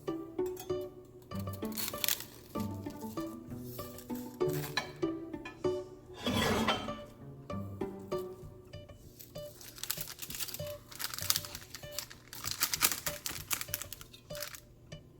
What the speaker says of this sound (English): Now I'm just going to cut them into squares.